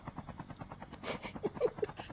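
Helicopters in the mobile shooter Call of Duty Mobile produce a steady, rapid rotor chop with a fast even pulse, fairly faint and distant, mixed with brief game effects.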